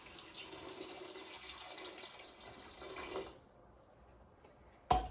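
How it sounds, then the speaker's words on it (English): Two cups of broth poured into a pot of chowder: a steady liquid stream runs for about three seconds, then stops, followed by a single sharp clink near the end. "So I'm going to take my 2 cups and just pour that right in."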